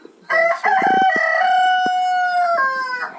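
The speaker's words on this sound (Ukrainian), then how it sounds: "У нас один пітушок півник" A rooster crows once, loud and close: a long, bright cock-a-doodle-doo that rises, holds, then trails off.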